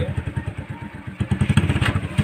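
A motorcycle engine idles and revs close by on a trip to have harvested rice weighed. Its low exhaust putters in a quick, steady rhythm that grows slightly louder partway through.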